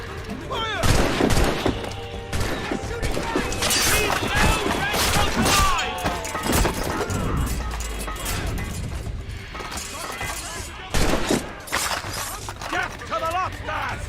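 A volley of ship cannons fires during a naval battle in Assassin's Creed Rogue, with repeated heavy booms and crackling blasts clustered over a busy mix of battle noise and game voices.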